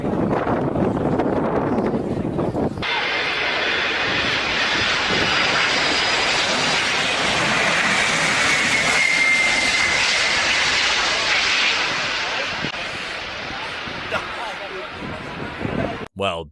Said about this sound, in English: Let's see how this pilot handles the landing of the Antonov 225.